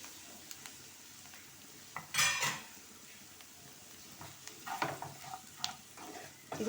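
Semolina frying with onions in a pan, stirred with a utensil that scrapes and clinks against the metal over a soft, steady sizzle, with a louder scraping burst midway.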